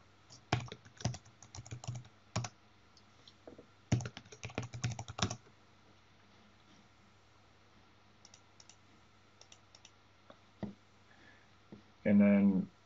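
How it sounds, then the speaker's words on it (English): Typing on a computer keyboard in quick bursts of close, crisp key clicks separated by pauses, with a few isolated taps and a louder clatter near the end, and a voice speaking at points. "type in your Azure AD credentials"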